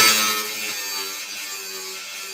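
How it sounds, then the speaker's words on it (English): A Milwaukee M18 slide-switch angle grinder grinds a 45-degree bevel on a steel edge, giving a loud, steady high-pitched whine with a harsh hiss that eases slightly after the first moment. "now we're going to grind just a little 45 on here in case you wanted to make a weld or something"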